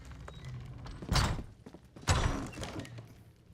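Heavy door in Castle Skingrad in the game Oblivion swinging open, two loud muffled thuds about a second apart, each with a short rumbling tail, close and alone with no talk.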